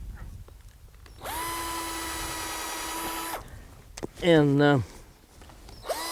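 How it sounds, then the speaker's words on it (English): A power drill bores a hole in walnut wood for grafting, a steady loud whine lasting about two seconds, followed by a short higher-pitched burst of drilling; a voice speaks briefly at the start. "we're going to also drill a hole in it here to aid in the"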